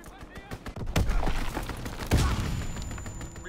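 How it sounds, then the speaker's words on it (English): Strafing-run gunfire in a first-person shooter, with dense overlapping bursts and heavy thuds, two loud impacts standing out and a continuous rattle between them. A voice speaks through parts of it. "Strafing run inbound"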